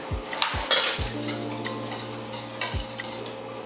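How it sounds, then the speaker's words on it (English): Cake batter being mixed in a bowl at home, heard as close, irregular scraping and clacking strokes of a utensil against the bowl over a low background hum, with no talk. "Mix it now."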